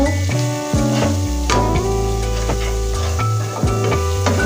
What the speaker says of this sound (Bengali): লঙ্কা গুঁড়ো গুঁড়ো মশলা পড়ে গিয়েছে নেড়ে নেব